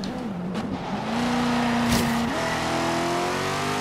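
A Corvette in Forza Horizon 3 races hard, its engine climbing and holding a loud, close rev, then pitching through gear changes while the tires briefly squeal through a corner.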